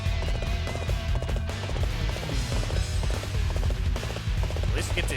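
A horse's hooves clip-clop in a steady rhythm as it is ridden at a walk in Dynasty Warriors 8 Xtreme Legends, set against continuous in-game music.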